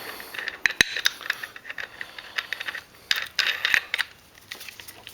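Metal parts of an AG125 125mm angle grinder, inner flange and disc, being fitted onto the spindle: close, irregular clicks, clinks and ratcheting scrapes in short bursts with quiet gaps.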